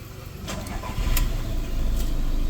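A 2016 Skoda Rapid diesel car engine cranks briefly and catches on the first try, then settles into a steady, close-up idle.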